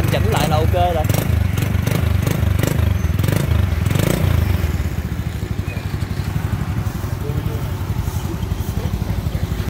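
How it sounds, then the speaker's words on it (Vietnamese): A Honda Wave RS 100 motorcycle engine with a slight exhaust leak sputters and revs up, then settles into a fast, steady idle chug with a voice talking over it. "Rồi như vậy là nổ máy nha"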